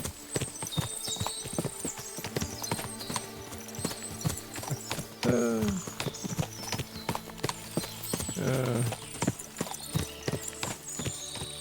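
Many horses' hooves clip-clopping at a walking pace in the video game Kingdom Come: Deliverance 2, close and overlapping, with a couple of horses whinnying partway through.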